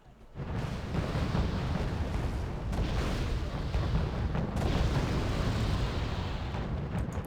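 Artillery fire in the Wargame: Red Dragon video game: a dense, continuous barrage of booming explosions, loud and rumbling with overlapping impacts and a few sharper cracks, no talking.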